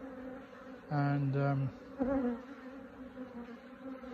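Honeybees buzz at a hive in a Flow Hive and new brood box, disturbed by a beekeeper; short, fairly close tonal buzzes rise briefly over a quiet background, with a faint word spoken.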